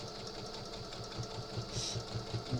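Home sewing machine stitching around a rag lap quilt, a steady rapid mechanical whir with rhythmic low thumps of the needle, close and continuous at moderate level.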